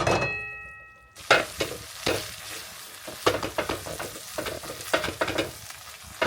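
Chorizo and beans cooking in a pan, stirred with a silicone spatula: after a brief quiet start, repeated scraping stir strokes ring out over a soft, continuous sizzle.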